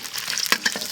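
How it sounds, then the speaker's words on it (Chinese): Ginger stir-frying in hot oil in a wok while cooking spicy pepper lamb, a loud crackling sizzle broken by several scraping stirs of the spatula. "姜是第一步炒的，再下入蒜"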